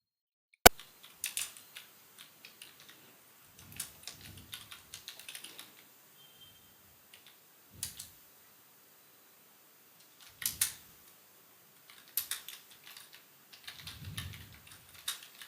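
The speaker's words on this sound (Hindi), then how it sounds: "तो मैं आपको सिर्फ दिखाता हूँ इसमें कैसे हम टाइप कर सकते हैं। दो एक आध दो सेंटेंस इसमें टाइप करते हैं।" Sentences are typed on a computer keyboard running Windows 10, heard as faint, sparse clusters of light key clicks with quiet pauses between bursts in an otherwise silent room.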